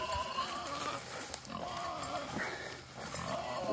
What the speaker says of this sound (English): Good evening, pigs.